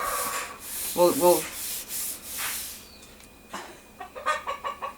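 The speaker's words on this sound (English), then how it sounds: "y'all hear the chickens? The chickens are up." Chickens cluck in short bursts, a couple of loud calls early and a rapid series toward the end, amid scraping, rubbing noises nearby.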